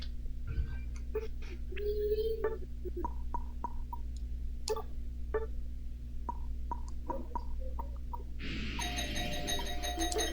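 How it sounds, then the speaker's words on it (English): A doorbell chimes in several short tonal strikes spread across the stretch, moderately loud over a steady low hum, with a brighter burst of tones near the end. "The doorbell rang."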